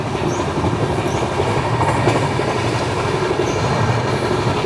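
The Amritsar–Nanded Sachkhand Express passenger train runs past Vidisha, a loud continuous rumble of wheels and carriages with rhythmic clickety-clack and faint high squeals, steady and close throughout.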